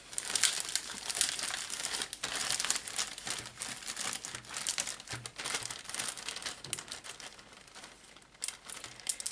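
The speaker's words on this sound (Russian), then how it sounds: "Я закрываю наглухо пакетик" A small plastic bag crinkles steadily as it is closed tightly over two cups holding damp peat tablets for lemon seed propagation, close and continuous with dense crackling bursts and no talk.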